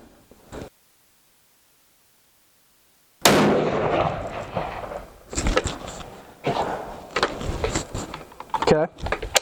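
Rifle fire at a farm shooting range: a sharp blast after a few seconds of silence, followed by clatter and handling noise, with people talking nearby.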